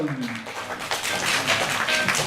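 An audience at a press event for a seaweed snack brand applauds to welcome Park Jihoon, with a steady, moderately loud patter of clapping that continues to the end.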